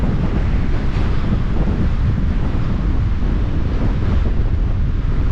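Constant roar of wind buffeting the microphone on a windy beach, with ocean surf rumbling underneath, loud and steady throughout with no breaks.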